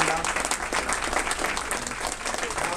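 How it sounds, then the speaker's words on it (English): Steady applause from a crowd at a political event, continuous clapping filling the room with no break. "So let's give everyone a big round of applause."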